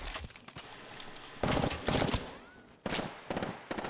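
Bursts of gunfire from a squad-based ranked battle royale video game, several sharp volleys in quick rhythm at close range, loud and dense with no talking.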